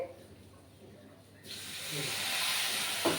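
Water poured into ground spices frying in a wok: after a quiet moment, a sudden loud steamy hiss and sizzle that swells and holds steady.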